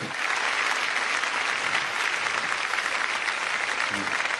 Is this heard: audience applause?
yes